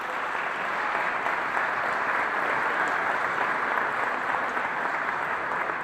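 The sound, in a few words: audience applause for speaker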